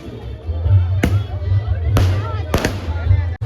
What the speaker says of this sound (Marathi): तर मस्त फटाके लावल्या बघा तुमचा